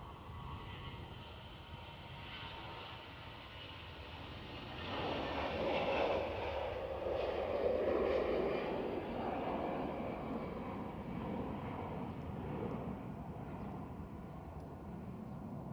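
An easyJet airliner accelerating down the runway on its takeoff roll at Glasgow Airport, a broad steady engine roar that swells to a peak midway and holds loud, heard alone without talk.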